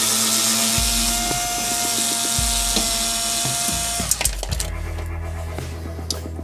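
A compact Bosch mini cordless screwdriver with a hex bit backs screws out of a Siemens IQ700 washing machine, several short motor whirs starting and stopping in bursts, close and fairly loud, with faint clicks of metal parts between runs and no talking.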